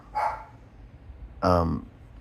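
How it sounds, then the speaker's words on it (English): Two loud dog barks nearby, a brief yap and then a longer, tonal bark after a short pause, with quiet room noise between. "Sorry, my dogs are barking."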